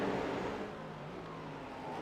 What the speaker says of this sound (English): Pops and a lot of cool sounds out of some of these GT3 cars